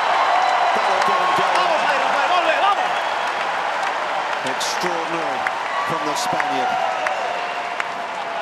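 US Open tennis crowd cheering and applauding after Nadal's smash, a dense continuous roar of clapping and shouts from a large stadium audience, with a commentator talking over it.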